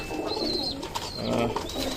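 High-flyer pigeons cooing close by in repeated soft, throaty bursts, with faint chirps and light background noise.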